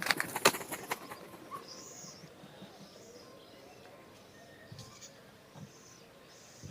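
Birds in an aviary at Al Ain zoo, with faint, repeated cooing calls spaced a second or so apart over open ambient noise and a few louder rustles at the start.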